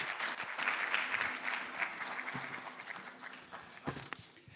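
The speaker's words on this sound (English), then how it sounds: "Give everyone a round of applause." Fairly quiet applause rises from students at a new student orientation, a loose patter of claps that gradually thins and fades, with a couple of sharper knocks near the end.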